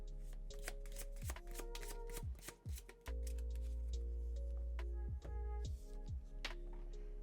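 Tarot cards being shuffled up close, a rapid riffling and flicking in repeated bursts over a steady low hum.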